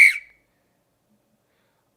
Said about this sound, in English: I just heard like a whistle